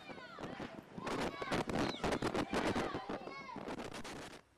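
Rapid gunshots fired into the air by Taliban fighters near Kabul airport crack out in a dense volley amid a shouting, agitated crowd, loud and close, with voices throughout.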